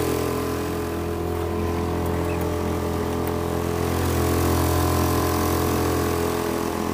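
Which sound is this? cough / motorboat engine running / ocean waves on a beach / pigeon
motorboat engine running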